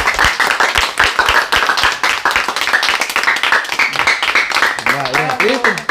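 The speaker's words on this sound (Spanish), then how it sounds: "¡Aplausos!" Lively clapping from a small group, loud and rapid, with a voice breaking in near the end.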